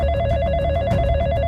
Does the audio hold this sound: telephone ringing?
yes